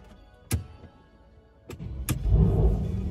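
A Mercedes-AMG C63 W205 starts up: a few sharp clicks and thumps, then the engine catches and settles into a loud, rumbling idle close by.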